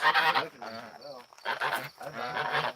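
A goose honking repeatedly at close range, nasal, harmonic calls in several bursts with brief pauses, loud and clear with no other sounds competing.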